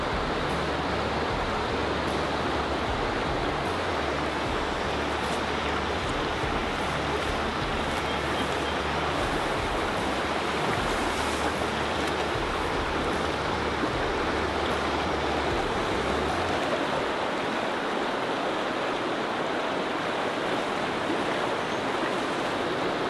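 Hat Creek flows past in a continuous, close rush of water, a broad, even wash of sound without pause and with no talking.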